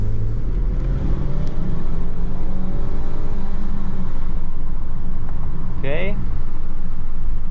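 A car drives along smoothly, its engine a steady low hum with a faint rising whine near the end, while someone says a brief word.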